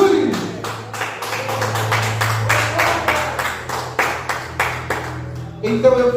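A church congregation claps together in a steady rhythmic beat, bright and close, over a low sustained organ-like tone. The clapping continues for several seconds and then gives way to a voice.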